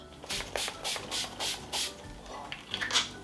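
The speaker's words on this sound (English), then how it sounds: "I'm going to finish off with my Mario Badescu facial spray with aloe, herbs, and rose water as a bit of a setting spray" A quick series of soft, airy spritzes from a facial mist spray bottle of aloe, herb and rose water, about eight short bursts close by, with no talking.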